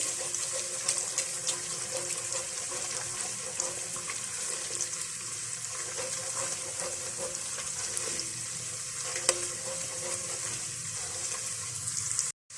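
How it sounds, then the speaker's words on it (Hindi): A tablespoon of ginger-garlic paste fries in a pan for shahi malai kofta, giving a continuous bright sizzle that holds steady for about twelve seconds before cutting off abruptly. "1 टेबल स्पून मैंने ये लिया है और इसको भी हम फ्राई करेंगे।"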